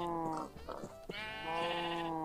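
A sheep bleats several times close by, a wavering nasal cry with short breaks between calls.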